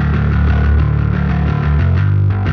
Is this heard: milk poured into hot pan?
no